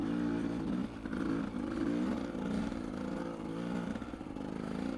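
A motorcycle engine drones steadily while riding, mixed with constant wind rush and a slight rise and fall in pitch, close and continuous throughout.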